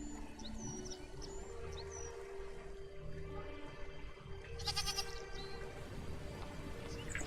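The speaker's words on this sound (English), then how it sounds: "Goat." A goat in the video game The Forgotten City gives a clear bleat partway through, heard over an ambient game backdrop with faint bird chirps and a low tonal drone.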